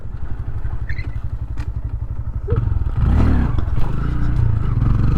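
Honda Grom motorcycle engine chugging steadily at low revs, then rising louder and rougher with clatter and thumps as it accelerates, close and continuous with no talk.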